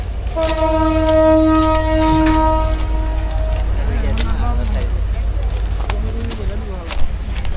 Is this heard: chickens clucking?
no